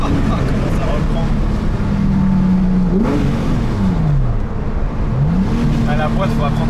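A Porsche 997 GT3 RS 4.0 accelerates hard, its engine note loud and close, rising through the revs, dipping at two quick gear changes and climbing again, with some cabin noise around it.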